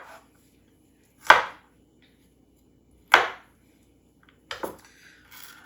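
A knife chopping peeled garlic on a board: three separate, crisp, close strikes a second or more apart, with quiet between them.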